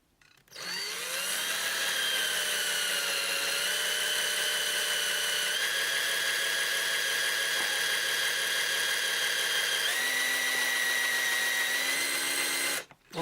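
A step drill bit bores through aluminium with a sustained high whining squeal, the pitch stepping up as each wider step engages, loud and steady for about twelve seconds before the drill stops.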